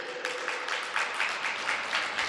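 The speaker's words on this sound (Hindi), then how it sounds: "जरा तालियां बजाओ पंडित जी के लिए।" Audience applause for a pandit at a Hindu devotional discourse on Navratri worship, steady broadband clapping from a crowd with rhythmic swells, moderately distant and filling the whole moment without talk.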